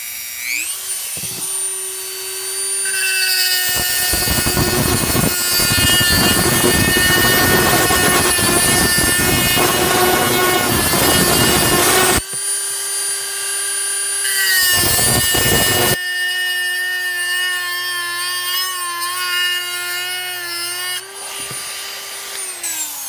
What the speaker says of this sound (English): Now I'm going to take my Dremel with a little fiber wafer in it. I'm going to do a cross hatch across it.